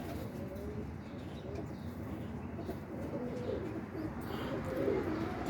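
Boston roller pigeons coo softly at a moderate distance over a steady outdoor background, the low murmuring calls repeating unevenly while the birds tend their young.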